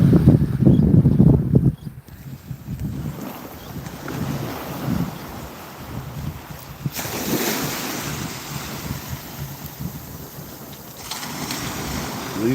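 Ocean surf rolls onto Lido Beach in Sarasota, Florida, with a loud wind-buffeted rush at first, then steady breaking waves washing in continuously, alone without voices.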